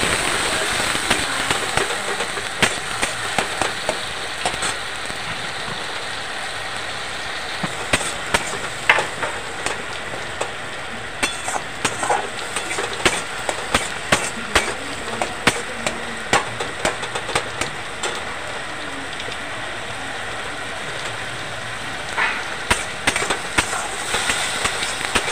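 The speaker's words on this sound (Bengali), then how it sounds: "টমেটোটাকে নেড়ে চেড়ে ভেজে নেব।" Grated tomato with a little salt frying and being stirred in a hot pan, giving a steady close crackling sizzle scattered with sharp pops and spits, with no voices.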